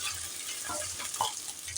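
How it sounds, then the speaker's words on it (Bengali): Paneer pieces fry in hot oil in a pan for palak paneer, giving a steady soft sizzle with a few light crackles and the scrape of a utensil, moderately close with no talking. "পনিরগুলোকে ভেজে নেব"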